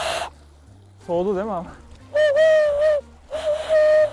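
A person outdoors imitates a tawny owl's hoot with a few voiced hoots, one wavering and two long, steady calls, loud and close, with brief speech in between.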